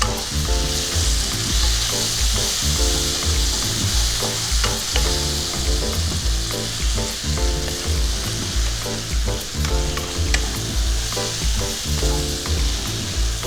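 Ground and paste spices sizzle and crackle steadily in hot oil for a dry Bombay duck curry, a constant close frying hiss, with soft music faintly underneath.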